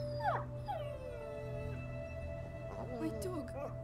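Dog whimpering and howling in the video game A Plague Tale, a series of high, wavering whines and yelps over a low ambient drone, close and clear, with someone speaking softly.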